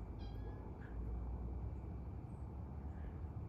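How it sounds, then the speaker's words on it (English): A neighborhood cat meows once, short and faint, in a backyard, with a steady low outdoor rumble underneath and the call sitting near the start before quiet ambience. "That's the neighborhood cat."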